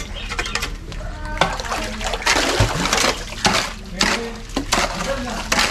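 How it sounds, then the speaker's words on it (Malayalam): Water gushes and splashes from a septic tank overflow pipe in irregular surges and spatters, with voices talking nearby. "എന്താ വെള്ളം ചാടുന്നതാ"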